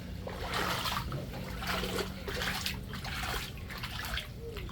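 Floodwater filling a house sloshes and splashes continuously, with faint movement through it and a low hum underneath; no talking.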